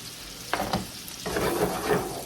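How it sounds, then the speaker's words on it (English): White wine splashes into a hot shrimp pan to deglaze it, with a couple of short hissing bursts followed by a steady, close sizzle and bubbling as the liquid hits the metal and reduces. "A little bit of white wine. Clean the pan a little bit."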